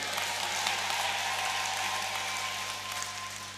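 Applause from a church congregation at a seminar, a steady dense wash of clapping that holds evenly throughout and fades slightly at the end, with a constant low hum underneath.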